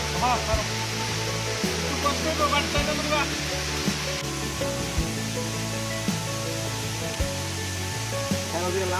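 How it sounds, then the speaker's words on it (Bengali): A waterfall at Birendra Para produces a steady, rushing broadband roar throughout, with faint tonal sounds layered over the water noise. "এই যে ওয়াটারফল"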